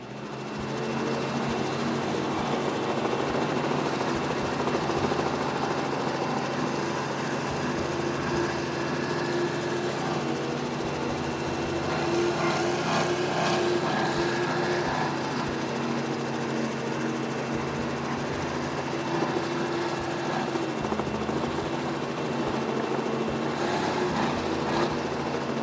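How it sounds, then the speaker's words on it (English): A single Mercury Racing 600 SCI outboard engine drives a racing boat at speed in a steady, loud, continuous roar with slight pitch shifts, heard alone throughout. "It's got a single Mercury Racing 600 SCI,"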